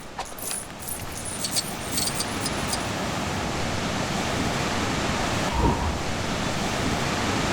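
A waterfall on an island in the LEGO Batman 3 video game pours as a steady broadband rush of water, continuous and fairly loud, with a few faint high clicks near the start.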